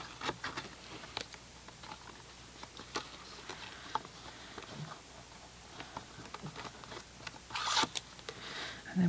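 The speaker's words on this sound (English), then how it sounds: "So just peel back a bit of your tape, line it up, keep your bunny ear out of the way." Adhesive tape peels back from a papercraft notecard box in short, crackly bursts of sticky tearing with light taps and rustles, close and quiet.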